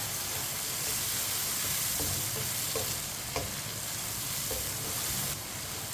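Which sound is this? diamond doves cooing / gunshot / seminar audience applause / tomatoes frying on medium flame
tomatoes frying on medium flame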